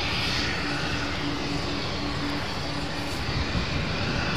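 Boeing 747 jet airliners at Amsterdam Schiphol airport produce a continuous broadband engine roar that stays loud and steady throughout, heard from moderate distance with no speech.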